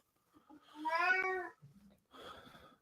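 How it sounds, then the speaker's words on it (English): A house cat gives one clear, drawn-out meow at close range, followed by a shorter, softer chirping call. The background is otherwise quiet. "Is that your cat?"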